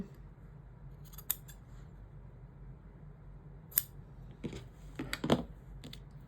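Scissors cut fabric for a sewing pouch with several crisp, close snips spaced irregularly over a quiet background.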